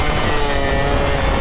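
Suzuki Satria motorcycle engine revving hard and close, a loud, dense, sustained roar with no breaks.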